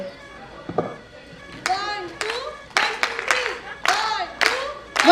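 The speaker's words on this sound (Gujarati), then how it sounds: "તાળીઓ પડાવીએ છીએ ચલો શરૂઆત કરીએ" Bursts of audience clapping at a children's prize distribution ceremony, arriving in several short rounds with gaps between them, fairly close and moderately loud.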